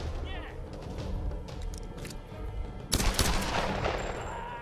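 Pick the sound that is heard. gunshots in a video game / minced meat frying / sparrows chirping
gunshots in a video game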